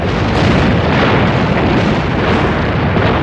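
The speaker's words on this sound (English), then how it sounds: "In minutes, 13 American and 14 Japanese ships were all firing," Warship guns firing during a World War II night naval battle off Guadalcanal, a dense, loud, continuous roar of blasts and rumbling detonations that merge into one unbroken barrage.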